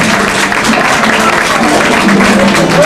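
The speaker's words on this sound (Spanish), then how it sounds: "fuerza un aplauso para él" An audience claps loudly and continuously at a live music show, dense crowd applause with murmuring and a few voices mixed in throughout.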